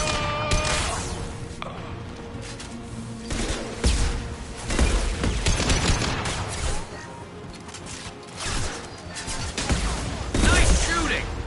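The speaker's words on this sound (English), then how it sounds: "Nice shooting!" Bursts of video game gunfire, with shots and volleys coming in uneven clusters over a loud, busy battle din, with occasional thuds and crashes and voices speaking over parts of it.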